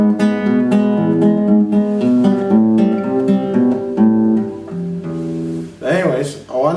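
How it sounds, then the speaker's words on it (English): Fingerstyle acoustic guitar playing the Malagueña bass line with repeated echoing notes, a steady run of plucked tones up close, ending with a brief strum flourish. "he uses almost an echo effect."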